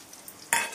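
Onions hit a hot pan for chicken fried rice with a sudden loud sizzle that flares up after a quiet moment, then keeps frying steadily.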